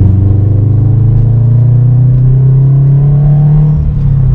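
A Subaru BRZ fitted with a short-throw shifter accelerates onto a highway, its engine giving a loud, steady droning rumble that climbs gradually in pitch as it revs, heard from inside the car with no talking.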